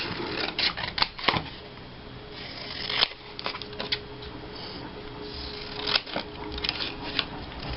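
Paper being trimmed for a scrapbook page, with crisp cutting snips and papery rustles close up, irregular bursts spread across the stretch.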